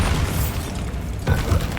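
A Bombarda spell blast in Hogwarts Legacy, a short muffled boom with rumbling low end amid dense game sound, a second thump following about a second later.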